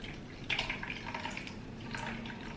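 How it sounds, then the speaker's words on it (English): Water is drained off freshly boiled sweet corn in a kitchen, a steady close pour and splash with a few brighter drips, with no voices. "Now I won't be needing this water, so I will drain this water."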